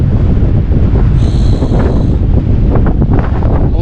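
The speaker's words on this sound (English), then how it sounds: "It's a little bit windier here." Strong wind buffeting the microphone on a coastal clifftop in Gozo, Malta, a loud continuous roaring rumble with gusty surges throughout, no voices.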